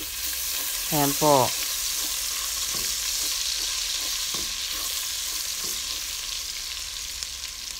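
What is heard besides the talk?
ginger sautéing in a pan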